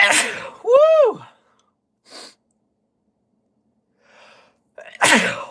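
A single loud sneeze bursts out near the start, followed by quiet breaths and a second sharp exhale, with short pauses of silence between.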